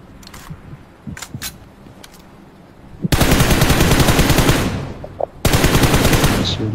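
Automatic gunfire in the BGMI battle royale game, with a few faint distant shots early on, then two long loud bursts of rapid fire close by, the second following a brief pause.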